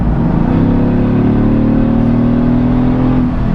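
A Mercedes AMG GTS flat-plane V8 in comfort mode with its exhaust valves closed gives a loud, close throttle blip, a deep steady engine roar held for several seconds before easing off.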